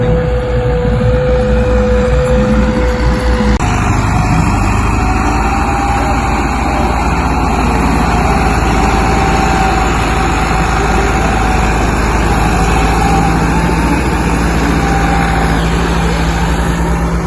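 Tractor engines run continuously at a sand-digging site on the shore of Mangla Dam, a steady loud mechanical drone with low rumble, one shift in tone a few seconds in, and no voices over it.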